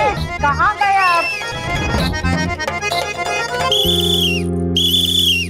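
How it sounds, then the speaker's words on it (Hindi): A whistle is blown from inside a closed room, sounding as a steady shrill tone near the end of the stretch, briefly interrupted, over a bed of dramatic music with voices earlier. "देख बापूजी की सीटी की आवाज यहीं से आ रही है"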